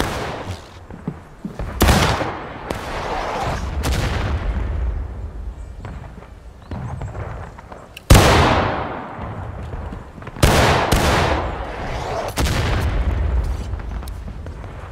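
Musket gunfire in the Civil War game War of Rights: sharp loud shots, some near and some farther off, each trailing into a rumbling echo, over a steady battle din.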